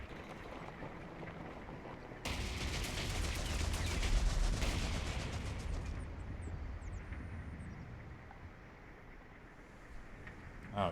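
Sustained gunfire in a Company of Heroes 3 battle bursts in loudly as a dense, crackling fusillade over a low rumble, then thins into sporadic distant shots against steady background ambience.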